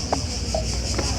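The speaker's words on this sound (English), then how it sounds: "It's funny hearing the cicadas at the same time." Steady high-pitched cicada buzzing drones continuously in Athens, Greece, with a few faint chirps rising above it.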